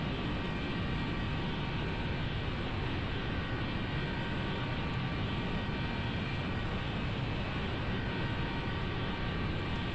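Continental 737 airliner engines in the X-Plane 9 flight simulator, a steady, loud jet drone with a broad rushing roar and faint high whine, unbroken and alone.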